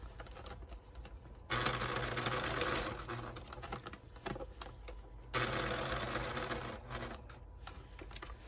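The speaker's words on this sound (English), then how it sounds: "I'm going to sew right up to the seam join here" A sewing machine sews a pants seam up to the seam join, running in two steady, fairly quiet bursts of rapid stitching separated by a pause, close by and with no talking.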